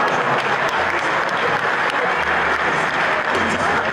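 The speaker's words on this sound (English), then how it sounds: "Clap for us." Audience at a Nigerian political address clapping, a dense, loud burst of applause sustained steadily for a few seconds.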